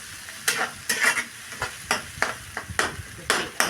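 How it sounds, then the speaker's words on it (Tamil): Devil chicken ingredients sautéing in a hot pan: about nine brisk, regular stirring strokes, each a sizzling scrape, over a constant close frying hiss. "நல்லா வதங்க விடுங்க"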